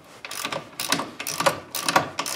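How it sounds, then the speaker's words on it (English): A socket wrench ratcheting while working on a KFI plow on a CF Moto UTV, several quick bursts of clicking pawl strokes in an even back-and-forth rhythm, close and clear. "then use a socket or open end wrench"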